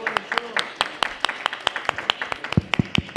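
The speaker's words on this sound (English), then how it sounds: "No, the claps are very meek." Meek applause from a conference audience at an EV after-sales panel: a thin scattering of separate claps, fairly close and steady for about three seconds, with voices talking underneath.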